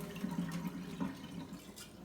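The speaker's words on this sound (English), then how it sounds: "I'll just dump all that water off of there" Soaking water being poured off a batch of sprouting seeds, beans and lentils, a short, soft splashing trickle with a couple of small gurgling surges, close and fairly quiet.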